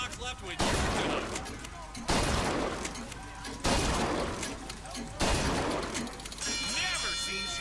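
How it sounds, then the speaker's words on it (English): Four loud bursts of rapid gunfire at a shooting gallery in the video game BioShock Infinite, each volley starting sharply and rattling for about a second and a half, followed by a bright chiming ding at the end. "Never seen shooting like that."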